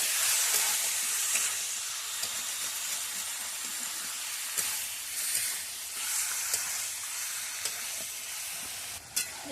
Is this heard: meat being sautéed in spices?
yes